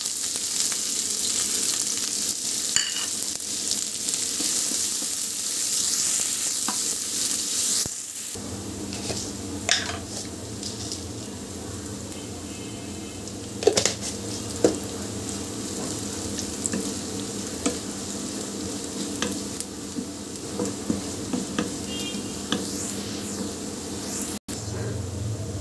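Onions sizzle and fry in hot oil with cow tripe, a steady loud hiss running throughout with occasional scraping and stirring clatters from the pan.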